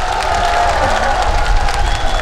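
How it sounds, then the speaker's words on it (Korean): Festival crowd at an outdoor pumba performance stage, clapping and cheering as the act is welcomed; a dense, continuous wash of applause and crowd noise throughout, loud and close, with a low hum underneath. "박수로 맞아주세요."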